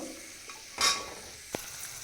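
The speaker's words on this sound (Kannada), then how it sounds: "ಈಗ ಇದು ಆಲ್ಮೋಸ್ಟ್ ಫ್ರೈ ಆಗಿದೆ" Beaten rice fries in a pan and is stirred, giving a quiet, steady sizzle broken by a short scraping clatter and a sharp utensil tap.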